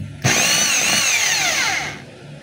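DeWalt D25033 rotary hammer running after repair with its armature not yet replaced, a loud close whine that starts abruptly, holds for about two seconds with a slowly falling pitch, then cuts off.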